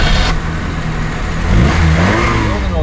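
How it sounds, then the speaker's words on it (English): A 1984 Mazda 323 engine cranks and catches, then runs at a low idle and rises into a rough rev, loud and close throughout. "Let's start the engine."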